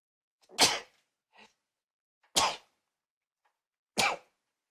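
Three sharp sneezes, spaced a second or more apart, each a loud burst that breaks the silence.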